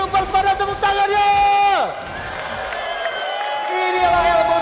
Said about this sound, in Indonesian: Jadi untuk Bigetroopers pada tepuk tangannya